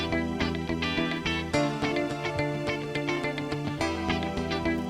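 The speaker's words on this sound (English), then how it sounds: "Now you can hear an electric piano in the background." A Ketron keyboard style accompaniment with an electric piano hitting chords on the downbeats over a steady rhythmic backing, clear and close, with no talking.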